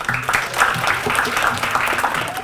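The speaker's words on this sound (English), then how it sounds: "can we give a round of applause for all the stories we've heard so far" A short burst of audience applause at a high school story slam, many hands clapping steadily and fairly close, with a murmur of voices underneath.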